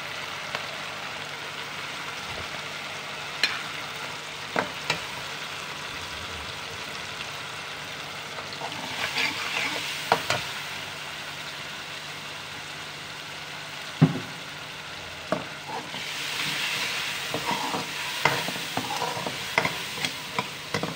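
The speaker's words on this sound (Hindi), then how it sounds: "ये मैं मसाले डाल रही हूँ।" Steady hissing sizzle of spices frying in a pan with tomato, garlic and onion, with occasional clinks and scrapes of a spoon stirring throughout.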